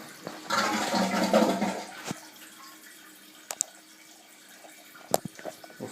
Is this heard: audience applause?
no